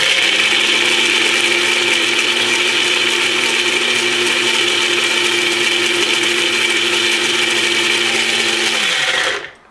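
Food processor grinding a small quantity of cashews into nut butter, a loud, steady motor roar held for nearly ten seconds before it winds down and stops.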